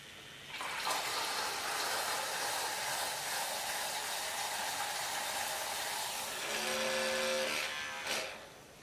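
Spinning makeup brush cleaner whirling a freshly rinsed brush dry, a steady close whirring hum lasting several seconds with a brief rising motor tone near the end before it stops.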